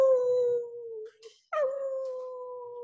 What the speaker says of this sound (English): She is howling.